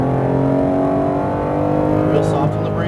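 A Porsche GT3 RS accelerates on track at Speedvegas, its engine droning steadily and loud from inside the car, pitch climbing slightly as throttle is applied, with an instructor talking over it.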